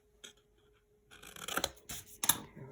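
Scissors cutting paper along score lines for a strawberry treat box, a few short close snips and paper rustles after a quiet start.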